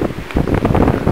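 Strong, squally wind gusting across a Carpathian mountain summit, a broad roaring rush that swells and buffets the microphone in continuous close gusts with no voices.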